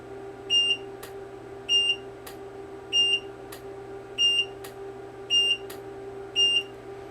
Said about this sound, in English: I have the beep on, so you'll hear when it's ready to flash